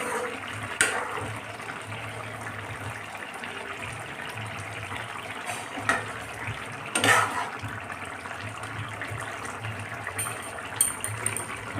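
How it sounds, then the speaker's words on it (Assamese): A pot of ridge gourd, tomato and fish curry bubbles steadily on the stove, a continuous watery simmer with a few soft clinks and knocks, no voices. "ইমান ধুনীয়াকৈ উতলি আছে"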